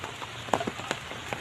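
Heavy rain falls near a river during a fishing trip, a dense, steady hiss with scattered louder drops pattering on a nearby surface and an umbrella, close and continuous with no voices.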